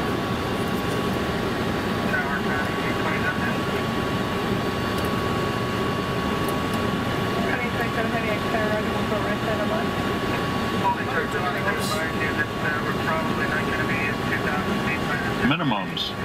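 Steady jet or turboprop engine and airflow drone inside an aircraft cockpit during a landing approach at Anchorage, loud and constant throughout, with radio chatter and callouts faintly over it and a brief bump near the end.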